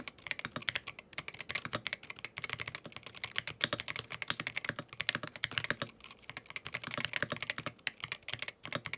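A magnetic mechanical keyboard is typed on quickly and continuously, producing dense, crisp key clacks in an irregular rhythm, close up and alone.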